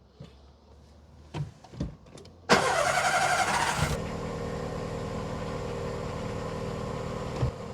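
A car engine cranks and catches on a key start: brief clicks and cranking, then a loud burst as it fires and settles into a steady, close idle.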